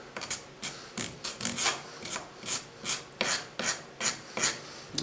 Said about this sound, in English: I'm just going to file that down